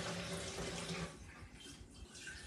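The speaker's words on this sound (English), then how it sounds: "Now I'm using tap water" Filtered tap water pours from a kitchen faucet into a pot, a steady rushing stream that softens and thins partway through.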